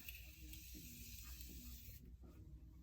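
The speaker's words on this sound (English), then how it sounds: "I just do a light spray of it" Light spray of Morphe Continuous Setting Mist misted onto a face during an everyday makeup routine, a soft steady hiss lasting nearly three seconds before cutting off, faint and close with low background hum.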